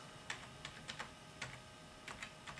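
Light typing on a computer keyboard: soft, irregular clicks of individual keys in short clusters, faint and close, with no speech over them.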